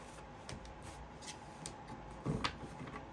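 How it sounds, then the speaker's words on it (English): A deck of cards being shuffled quietly up close, soft riffling and rubbing with a slightly louder flurry near the end. "Just shuffling, just shuffling."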